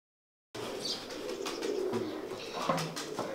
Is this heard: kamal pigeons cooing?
yes